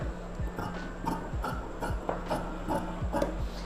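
Scissors cut through blouse fabric while the sleeve piece is shaped, giving a close, steady series of rasping snips about every half second with no talking.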